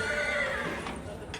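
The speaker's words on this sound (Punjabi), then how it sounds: "ਤੇ ਇਧਰ ਬਾਬਿਆਂ ਦੇ ਘੋੜੇ" A horse of the Nihang Sikhs whinnies amid a busy outdoor crowd near a gurdwara in Nanded, with people talking and general bustle around it.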